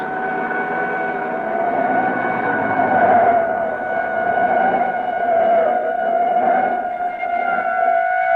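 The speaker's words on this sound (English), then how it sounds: "police siren a block behind" A steady, droning police siren tone a block behind holds for several seconds, sounding somewhat distant and muffled, with slight swells in loudness but no voices, from an old radio drama.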